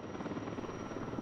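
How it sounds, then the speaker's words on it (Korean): A very large firefighting helicopter approaching with a loud, continuous rotor and engine roar that fills the whole moment, steady and close, with no talk. "굉음을 내며 다가오는 초대형 산불 진화 헬기"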